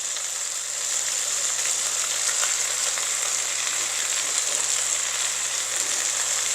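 Boneless chicken thigh pieces sizzle in a hot pan for massaman curry, with a steady, close, bright frying crackle and hiss that continues evenly throughout with no voices.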